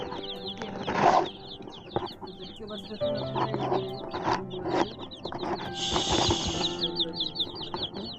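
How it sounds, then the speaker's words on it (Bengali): Eight- to nine-day-old chickens on a poultry farm peep and chirp continuously in high, rapid calls, with occasional wing flutters and shuffling nearby. "আজকে আপনার আট থেকে নয় দিন বয়স চলতেছে মুরগিগুলো"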